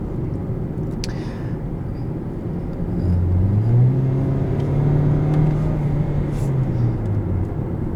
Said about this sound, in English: So that was flooring it without kick down.